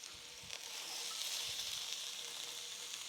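Sous vide burger patties searing in a dry, oil-free hot pan give a steady, close crackling sizzle that holds evenly throughout, with a few soft clinks underneath.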